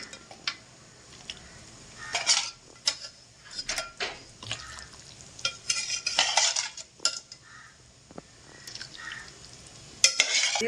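Sardine fish curry simmering in a pot as pieces of fish are added and stirred in, with scraping and clinking of a utensil against the pan in irregular bursts over a soft bubbling background.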